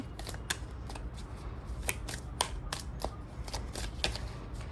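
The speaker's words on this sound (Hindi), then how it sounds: "तो आइए हम दूसरी डेक से भी कुछ कार्ड्स निकाल लेते हैं बेटर अंडरस्टैंडिंग के लिए" A deck of tarot cards is shuffled and cards are drawn from it, giving soft, quiet riffles broken by a string of short, crisp flicks as cards slide and snap against each other.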